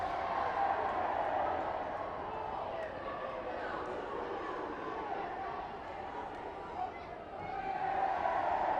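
School supporters at a U13 Schools Cup rugby match between Whitgift and Thomas Telford, a steady wash of crowd noise and cheering that holds throughout, with a commentator talking over it.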